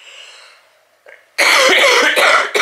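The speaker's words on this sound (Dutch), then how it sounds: "Het is dat hoest, het blijft toch bij mij zo lang hangen." A faint breathy sound, then a burst of harsh, loud coughing, two or three hacking coughs in quick succession, close to the listener.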